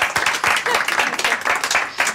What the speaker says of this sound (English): I've never had the clap from them